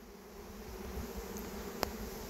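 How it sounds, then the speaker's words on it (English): A swarm of tens of thousands of honeybees swirling in the open, a dense steady buzzing drone filling the air all around, with one brief sharp tick near the end. "They're swirling all around me, tens of thousands of honeybees. The sound and the scent is quite incredible."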